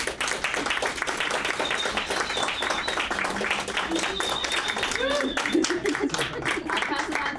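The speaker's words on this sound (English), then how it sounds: "Now please join me in giving all of these lovely folks a round of applause." An audience claps for a group of panelists at an arts event, a moderate, continuous patter of many hands with a voice speaking over the applause.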